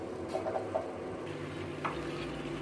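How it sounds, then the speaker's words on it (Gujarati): Punjabi gravy cooking in ghee in a pan, a low constant sizzle with a few light stirring scrapes and taps scattered through. "હવે એને પકાવશું આપણે સારી રીતે જ્યાં સુધી ગ્રેવીમાંથી ઘી છૂટું થાય ત્યાં સુધી"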